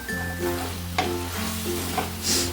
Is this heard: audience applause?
no